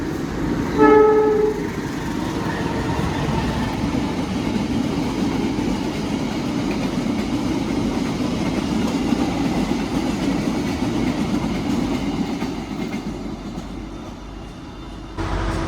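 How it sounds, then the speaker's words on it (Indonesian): A train from Madiun passes through Ngawi station in Indonesia, sounding a short horn near the start and then giving a long, steady, loud rail rumble that fades slightly toward the end. "Kita ketemu dengan kereta api Ketal teman-teman dari Madiun ke arah Hulu ya."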